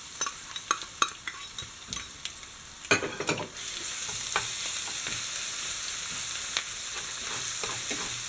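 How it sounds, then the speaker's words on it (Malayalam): Crushed ginger and garlic frying in oil for a Kerala fish pickle, a steady hiss of sizzling under repeated scraping strokes of a spoon stirring the pan, with a louder clatter partway through. "ഇതൊരു ചെറിയ ഗോൾഡൻ കളറാകുന്ന വരെ നന്നായിട്ട് എണ്ണയിൽ ഇളക്കി കൊടുക്കുക."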